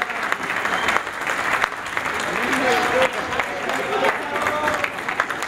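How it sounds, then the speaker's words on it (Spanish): Steady applause from an anniversary event crowd claps on for several seconds, with a voice talking over it. "Un aplauso fuerte, don Lázaro."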